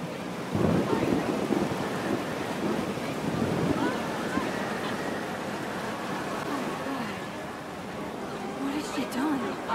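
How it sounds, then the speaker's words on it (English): Thunderstorm in Life Is Strange: Double Exposure: a broad, rolling rumble of thunder with wind and rain that stays loud throughout, while voices talk over it. "Oh no, a storm! A storm!"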